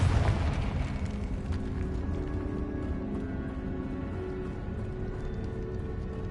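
The Confringo fire spell explodes in Hogwarts Legacy with a deep, low boom at the start that trails off into a sustained rumbling, crackling tail. No one speaks over it.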